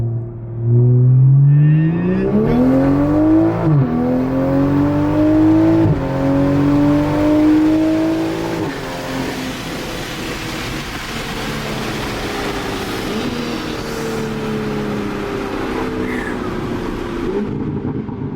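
A Toyota GR Supra with a BootMod3 tune accelerating hard through the gears, the engine note climbing loud and close with clear pauses at each upshift before fading into a steady cruising drone.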